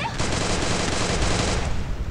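Shotgun fire in the battle-royale game Free Fire: a dense, loud burst of rapid overlapping blasts lasting about two seconds, with no voices.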